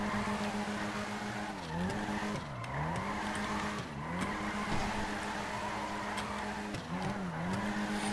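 A Nissan GT-R R35 drifting in FiveM: a loud engine drones and wavers continuously as revs dip and rise, with tires squealing through repeated slides.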